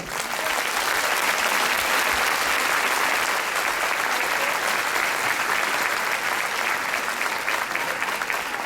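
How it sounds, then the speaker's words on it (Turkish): A crowd applauds children and young performers at the Ankara Circassian Association's year-end show, a dense, steady wash of clapping that is loud and continuous throughout, with no speech over it. "bence çocuklarımız, gençlerimiz çok daha güçlü bir alkış hak ediyor"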